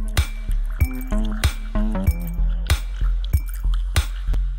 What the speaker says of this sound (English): In context, the kick sounds like this.